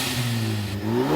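A 2013-2018 Ford Focus ST engine, fitted with a Turbosmart dual-port blow-off valve, revs with no load, a loud close drone climbing steadily in pitch over about a second.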